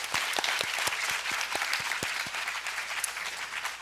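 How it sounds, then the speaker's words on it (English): Loud applause from an audience at a national English speaking contest after a heated debate, with dense clapping and a few distinct sharp claps running for nearly four seconds. "Let's give these guys a round of applause."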